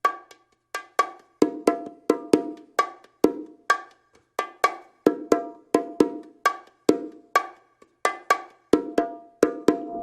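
Bongos are struck alone in a broken Martillo pattern, with no ghost notes: crisp, dry hand hits in repeating groups with short gaps, steady and close.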